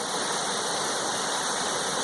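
A small waterfall on the Pockwock River rushes in a steady, broadband hiss of falling water, close and continuous with no voices.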